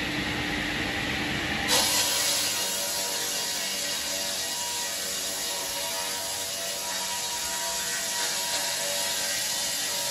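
An EcoTwin 400 Turbo wood sawing machine runs in a sawmill, giving a loud, steady mechanical whir and rattle that holds evenly throughout after a sharp rise near the start.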